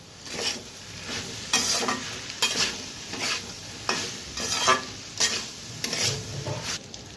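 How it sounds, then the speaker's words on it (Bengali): Pasta being stirred in a frying pan with soy sauce and tomato sauce, a steady sizzle beneath repeated scraping strokes of the spoon, close and moderately loud, with no talking. "Soya sauce, tomato sauce. তো ভালোভাবে নেড়ে নিই।"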